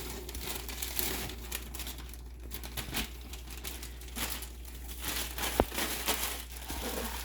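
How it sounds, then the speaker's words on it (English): A plastic bag of marshmallows is cut open, with continuous crinkling and rustling of plastic and a sharp snip partway through, close and fairly quiet. "You cut bag 2 open."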